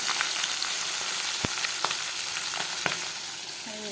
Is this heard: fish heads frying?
yes